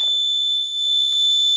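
A homemade anti-theft luggage bag alarm sounds a loud, continuous high-pitched electronic tone up close, with faint handling noises underneath.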